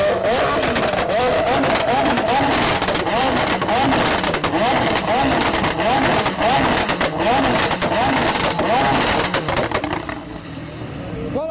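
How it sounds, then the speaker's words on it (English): Three McLaren 720S supercars revving at a modified car show, a continuous loud engine roar with repeated sharp rev bursts and pops, crowd noise behind, before the sound drops away near the end. "We've got three 720Ss all warming themselves up to have a rev or maybe flame battle"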